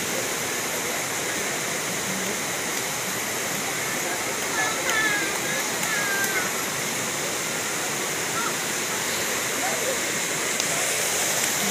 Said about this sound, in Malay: dan air makin laju.